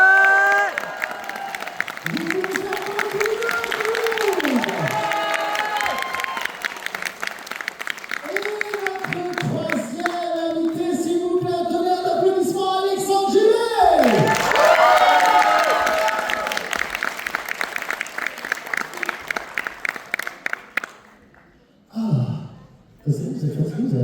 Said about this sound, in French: s'il vous plaît, applaudissez Damien Vidégal